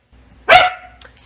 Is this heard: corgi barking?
yes